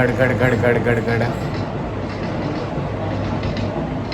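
A passing train fills the scene with a loud, steady rumble and broadband rattle that holds for the full four seconds, with faint voices beneath it.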